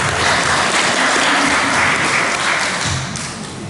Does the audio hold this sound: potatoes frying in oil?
no